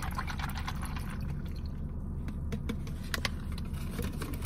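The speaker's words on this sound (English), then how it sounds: "Pour that up so I can sip on it" A drink, a mango-flavored beverage, is poured into a Starbucks cup, giving a continuous splashing trickle with small clinks, close and steady throughout with no talk.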